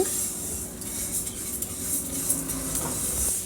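Moong dal is fried and stirred in a pressure cooker, with a spoon scraping and clinking against the metal pot in soft, irregular strokes over a faint sizzle, and no one speaking.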